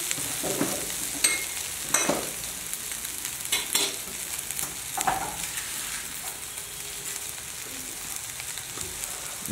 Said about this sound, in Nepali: अलिकति बेसार बेसार हालेर फ्राई गरेको देख्छौँ